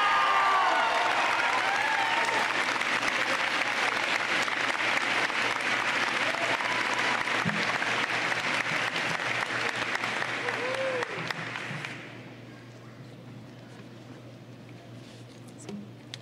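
An audience at a graduation ceremony claps steadily for around twelve seconds, then the applause fades to a quiet room with scattered small noises.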